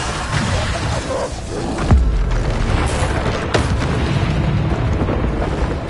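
Bombarda blasting spells going off in a Hogwarts video game, producing deep booming explosions with a heavy thud near two seconds and another burst shortly after, all over a loud, dense rumbling battle wash.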